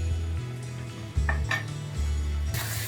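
Biryani masala is mixed in a pan for mutton biryani, with a metal spoon scraping and clinking against the pan in short strokes over a low hum.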